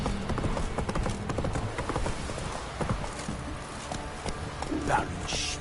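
Hooves of a horse galloping in the video game The Witcher 3, a steady rapid clip-clop rhythm running throughout, with a short whinny near the end, close and clear over faint game ambience.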